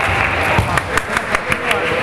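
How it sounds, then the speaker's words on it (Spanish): A small group claps in rhythm at a school physical education sports lesson, about eight distinct claps in regular succession over a noisy, reverberant background with voices. "Aplaudan a los que estuvieron afuera intentando"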